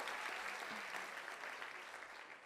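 An audience applauds at a talk, a steady, dense wash of many hands clapping, held evenly and then fading slightly toward the end, fairly distant and without voices over it.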